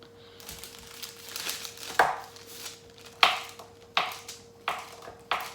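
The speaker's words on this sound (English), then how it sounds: "I'm just going to just slice it up in little cubes" A knife slices a half cup of cold butter into small cubes, landing several sharp chops on a cutting board at an uneven, quickening pace, close and clear, with no talking.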